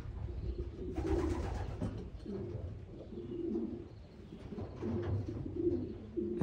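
Racing pigeons coo repeatedly in a loft, soft low throaty calls rising and falling close by over a steady murmur of movement and background noise.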